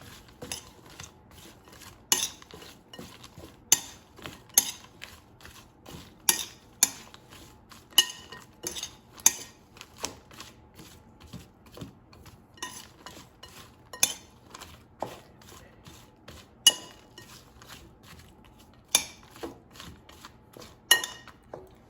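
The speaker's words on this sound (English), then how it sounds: "let's toss it so the potatoes are evenly coated with oil and seasonings" Sweet potato slices are tossed with oil and seasonings in a bowl, giving a quiet series of sharp clinks and taps, irregular and close, over a faint background with no talk.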